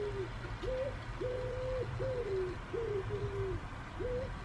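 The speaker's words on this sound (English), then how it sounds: "It's a wood pigeon call." Wood pigeon call, a soft hooting coo repeated in a steady rhythmic phrase of about seven notes, fairly close and calm over a low background rumble.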